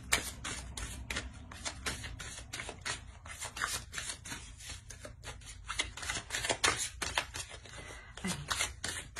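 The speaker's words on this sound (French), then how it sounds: "Je vais rajouter une carte." Tarot cards riffled and shuffled by hand, then drawn, giving a long run of dense, rapid papery flicks and snaps close up with no speech.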